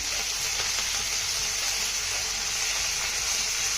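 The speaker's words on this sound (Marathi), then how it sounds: "फोडणी चांगली मिक्स करून घ्यायची आहे" A tempering of sesame seeds and chopped coriander sizzles in hot oil while being mixed, a dense, even crackling hiss holding close and steady the whole time.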